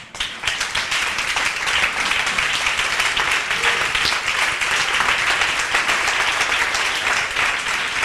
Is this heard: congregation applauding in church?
yes